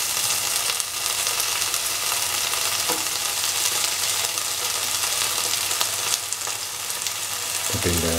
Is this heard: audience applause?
no